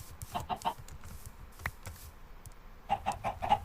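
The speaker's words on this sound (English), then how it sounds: "The chickens are escaping the coop." Chickens clucking in Minecraft, short bursts of quick high-pitched clucks at the start and again near the end, with soft game sounds and faint movement noises in between.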